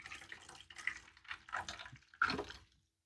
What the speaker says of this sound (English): And then I put some water in there.